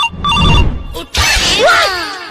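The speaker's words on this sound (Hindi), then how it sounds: "अबे किसका फोन बज रहा है?" A phone rings in bursts of bright electronic tones, loud and close, interrupted by clattering noise and a break before the ringing resumes with a sweeping tone.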